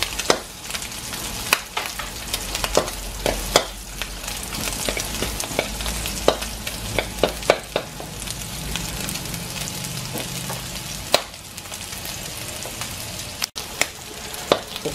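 Garlic frying in a little oil in a pan while cooking adobo, with a steady close sizzle and repeated sharp clicks and scrapes from stirring throughout.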